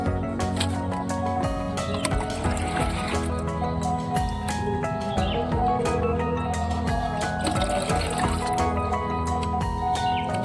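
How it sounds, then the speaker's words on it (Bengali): Green pond water at an outdoor guppy fish pond being scooped out and poured aside, continuous close splashing and trickling with dripping throughout, loud and steady. "এখানে জলটাকে আমি আলাদা করে তুলে রেখে দিই।"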